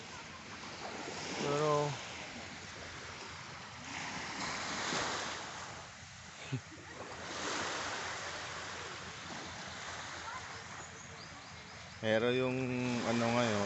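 High-tide sea waves wash onto a beach with fine sand, surging and receding in a steady rumble with wind buffeting the microphone, while a person talks briefly at the start and end.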